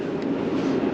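Metro train in Ecuador riding along, a steady loud rumble of the rail carriage with faint clicking of the track throughout, no voices.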